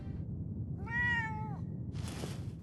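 A cat in Fallout 4 gives a single clear meow, followed by a short soft hiss, over a faint low game ambience.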